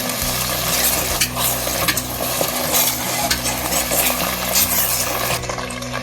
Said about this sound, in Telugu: నెయ్యి వేసుకొని ఒకసారి మొత్తం కలిసేటట్టు మళ్ళీ